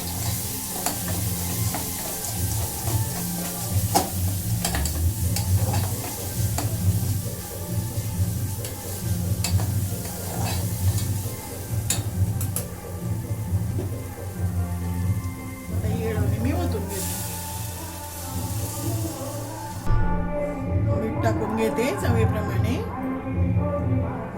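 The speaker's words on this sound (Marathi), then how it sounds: "हळद टाकलेली आहे धण्याची पावडर गरम मसाला परतून घेते" Turmeric, coriander powder and garam masala sauté in hot oil for a green-chilli and red-chilli amti, a continuous close sizzle with scraping stirs, and a voice comes through at times.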